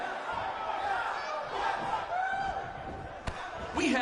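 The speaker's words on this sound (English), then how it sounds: "We have a sold-out record-setting crowd here for BCW tonight." In a WWE 2K19 wrestling arena, a sold-out crowd roars and cheers continuously, a dense wash of voices around a loud slam near the end. A commentator talks over the crowd noise.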